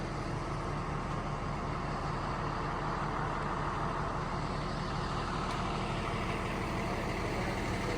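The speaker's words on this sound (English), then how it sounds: "We have to get that bucket truck back in here to set the beams." A bucket truck rumbles steadily near a wooded off-grid cabin site, a loud, continuous engine drone with a broad, noisy texture throughout, no voices.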